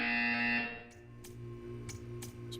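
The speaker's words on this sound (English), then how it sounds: "You will hear a buzzer." A buzzer sounds in the video game Portal 2, a steady tonal drone that cuts off after about half a second, followed by a faint low hum and a few soft clicks.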